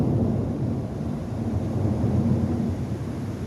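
Thunder from a storm that has already passed rolls as a low, steady rumble, with wind noise buffeting the microphone and no clear distinct claps.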